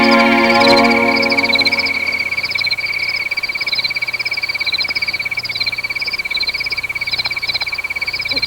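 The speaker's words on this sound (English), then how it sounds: "Sometimes we may share a rising exuberance with the reverberant frogs." Frogs croak in a steady, reverberant chorus in the Grand Canyon after rain, with rapid pulsing trills repeating throughout and no voices.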